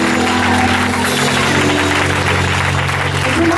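A church congregation claps hands together steadily at a service, a dense continuous patter of applause over a sustained musical tone beneath it.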